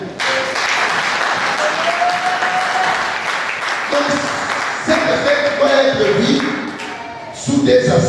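Church congregation applauding and cheering at a Feast of Unleavened Bread service, a steady wash of clapping throughout with sustained tones and voices mixed in.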